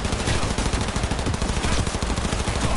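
Rapid automatic gunfire in the video game Cyberpunk 2077, played on a PlayStation 4 Pro, a dense continuous burst of loud shots with no voices over it.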